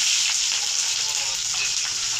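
Continuous close hiss and crackle of onion frying in hot oil, steady and bright with faint bubbling throughout.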